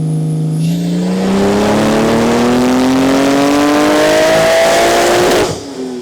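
A 1500bhp Porsche 992 Turbo S engine revs hard and continuously, its pitch climbing steadily for about five seconds before cutting off abruptly, loud and close with no voices.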